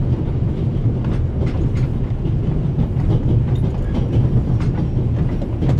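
A train rolls along the rails in the video game The Raven Remastered, a loud, steady low rumble with a faint rhythmic clatter throughout and no talk.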